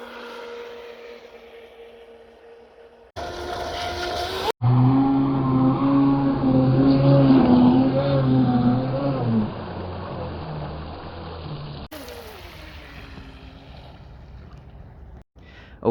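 A Traxxas M41 RC boat running at speed, a loud high-pitched motor whine that surges and holds for several seconds before fading, with quieter wind and water noise around it.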